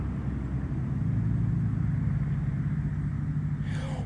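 A $100 RC car drives fast in a steady, buzzing electric-motor drone that holds continuously close by, with a brief higher whine near the end.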